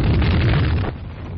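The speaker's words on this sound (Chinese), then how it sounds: "廖耀湘兵团的火力准备开始了，这的确是重量级的暴风雨般的炮火" A heavy artillery barrage from the Battle of Heishan booms as one dense, loud, rumbling roar that eases slightly toward the end, with no voices.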